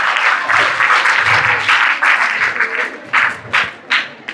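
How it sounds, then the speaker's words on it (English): A small audience gives a short burst of applause, loud and close, with uneven claps tapering into a few scattered ones at the end. "give them a big round of applause"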